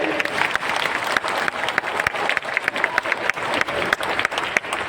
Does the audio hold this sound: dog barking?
no